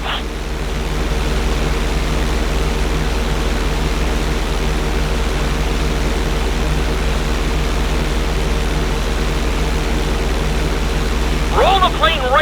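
A steady, loud propeller-plane engine hum from GTA 5 drones evenly as the aircraft rolls upside down, with a voice talking over it and a brief chirp near the end.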